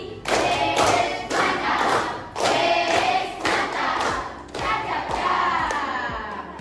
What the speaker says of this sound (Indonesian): Ayo tepuk apresiasi